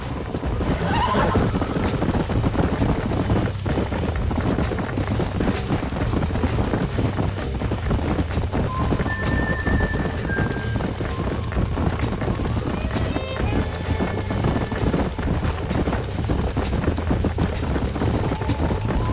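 Horses in the video game Red Dead Redemption whinny and hooves clip-clop at a steady gallop, with wind and outdoor ambience throughout; a voice speaks briefly under the action.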